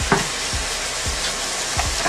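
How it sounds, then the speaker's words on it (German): Turkey fries in a pan with a steady crackling sizzle, broken by occasional soft clinks and stirring scrapes of a utensil, close and fairly quiet with no voices. "In der Zeit, wo das brutzelt"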